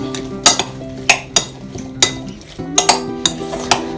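A utensil stirs an olive oil mixture for bruschetta in a bowl, giving sharp clinks and scrapes about every half second against a steady background hum, close and clear with no talk.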